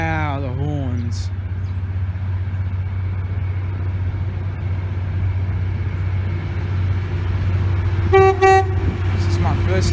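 Freight train horns sound near the end in several loud sustained blasts, over a steady low rumble of the approaching train, with a voice heard early on.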